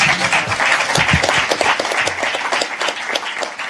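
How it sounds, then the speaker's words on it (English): A steady round of audience applause at a community event on broadband, dense and fairly close, filling the whole few seconds without pause. "Let's have another round of applause for..."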